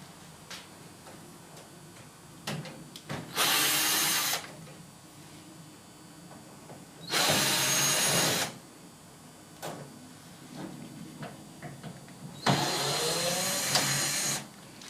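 A power drill removes screws from the panels of a Whirlpool Diplomat dishwasher, with three loud whirring bursts of a couple of seconds each, separated by quieter clicks and handling noises.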